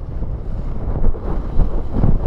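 Gusty wind buffets the microphone during a wing foiling session on open water, a dense low rumble that swells and surges in short waves over a couple of seconds, with no voices.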